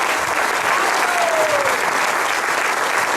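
Sustained applause from a lecture audience at a festival talk in Santo Domingo, a dense, steady wash of clapping filling the whole stretch at an even level.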